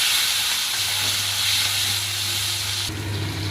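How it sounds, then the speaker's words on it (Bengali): Chicken mince hits a hot pan seasoned with whole cumin and fries with a loud, steady hiss and sizzle. The sound runs continuously and close, with no voices over it. "এবার এর মধ্যে আমি এই মাংসটা ছেড়ে দিলাম,"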